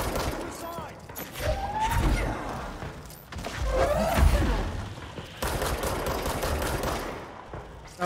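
Video game combat in Control, with rapid bursts of automatic gunfire and thuds that come and go in loud waves, mixed with a voice talking over the shooting.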